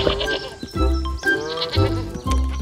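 A cartoon lamb bleats in a Filipino-language fairy tale about a lamb and a wolf, a few loud wavering baa calls in quick succession, close and clear, apparently voiced by a performer imitating the animal.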